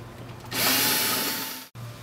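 Cordless screw gun driving screws into an in-wall loudspeaker bracket clamping onto drywall, a single close whine of about a second over a low background hum, ending abruptly.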